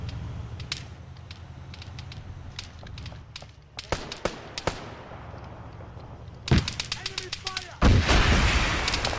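Gunfire is exchanged in an Arma 3 battle, with sharp single shots and bursts at varying distances, some far and faint, others close and loud, and rapid volleys near the end over a low rumble.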